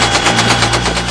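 Dense, rapid gunfire rattles continuously over a steady low helicopter engine drone at a British military base in Afghanistan, loud and close, with no clear gaps between bursts.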